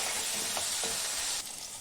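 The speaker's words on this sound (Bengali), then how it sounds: "এবারে আমি আলুটাকে ভালো করে ভেজে নিচ্ছি।" Potatoes fry in a pan with turmeric, giving a loud, steady sizzle with faint stirring scrapes. The sizzle eases slightly toward the end. No one speaks.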